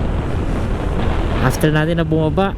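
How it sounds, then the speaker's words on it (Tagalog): A strong, steady rush of river water flows beneath a bridge in Kayapa, Nueva Vizcaya. The broad noise runs continuously under someone talking, with a windy, roaring quality throughout. "Yan, lakas ng daloy ng tubig"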